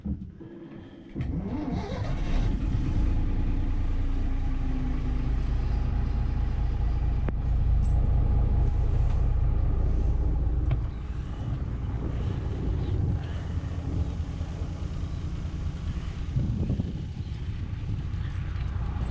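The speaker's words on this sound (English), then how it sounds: "Going to run the engine for a bit." A small boat's engine starts after a brief crank and settles into a steady, loud, close inboard idle with a low rumbling drone and slight variations, alone without talk, while the boat sits moored.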